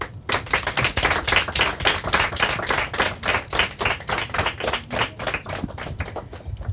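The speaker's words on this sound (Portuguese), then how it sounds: "Palmas para eles." Studio audience at a Portuguese-language televised quiz show claps for a team, a dense, steady burst of hand claps lasting several seconds with no talking over it.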